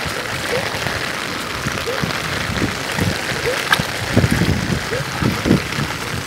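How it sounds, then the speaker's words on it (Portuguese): Rain falls on a flooded street, a steady broadband hiss with splashing bursts and faint background voices mixed in. "Não tem nem 15 minutos de chuva."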